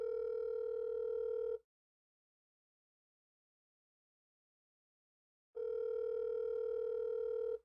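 Telephone ringback tone while calling someone, two long steady electronic tones separated by a silent gap of about four seconds, clean and moderately loud with no talking.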